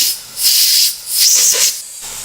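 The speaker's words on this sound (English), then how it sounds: "We've got working steam pressure." Steam hisses loudly from a model desktop steam engine in two long bursts with a brief dip between, a close breathy rush that fades out at the end.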